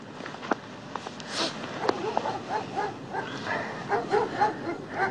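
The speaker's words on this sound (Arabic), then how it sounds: "ما كاين والو صداع غير الكلاب هادوك" Dogs in a village bark and yip intermittently in the middle distance, with soft footsteps and faint voices underneath.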